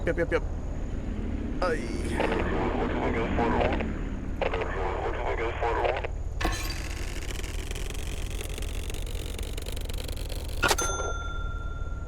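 A crash landing in the flight game Aviassembly, with a steady low aircraft drone broken by clanging and scraping impacts and bright metallic dings near the end, while a voice talks over parts of it.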